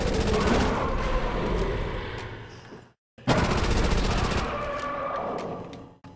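A Thompson submachine gun fires long, rapid automatic bursts in World at War Zombies on Shi No Numa. The loud gunfire breaks off briefly near the middle, then resumes at full intensity.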